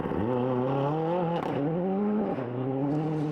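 A Toyota Corolla rally car with an oil leak drives a forest stage at the Glens of Antrim Forest Rally. The engine is loud and sustained, rising through revs with brief dips between gear changes.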